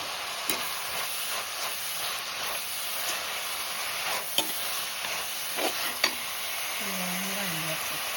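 Sliced onions with salt fry in a pan for chicken curry, giving a steady sizzling hiss broken by occasional scrapes and clicks of a stirring spoon, close and loud, with a brief voice near the end.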